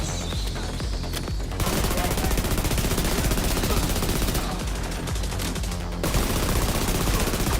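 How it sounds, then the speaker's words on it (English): Sustained automatic gunfire in The Division 2, rapid loud bursts of shots rattling close up with brief gaps between volleys, a voice talking over parts of it. "I'm just pointing and shooting."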